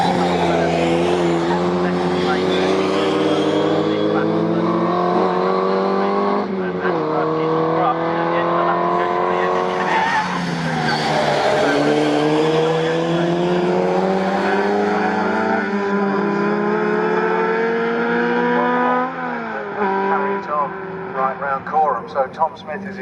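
A TVR and an MGB race at Snetterton, their engines howling loudly as they rise and fall through gear changes, one car passing close, with a commentator talking over the roar.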